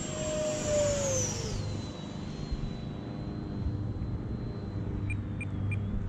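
An E-Flite Viper 70mm EDF radio-controlled jet makes a high-speed pass, its ducted fan whine sweeping down in pitch as it flies by, then settling into a steadier, fainter whine in the distance.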